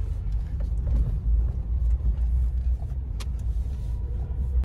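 A Toyota Fortuner's engine runs in a steady, close, loud low rumble with no break, and no voices are heard.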